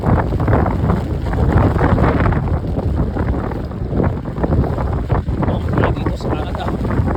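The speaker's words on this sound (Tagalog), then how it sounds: "Lakas ng hangin." Strong summer wind at a bus stop in Canada, a loud, steady roar of gusts buffeting the microphone with a rumbling low-end rush throughout.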